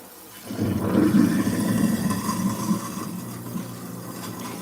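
Water runs steadily from a tap while freshly juiced beet residue is rinsed off juicer parts, a moderate gushing flow that swells then tapers slightly.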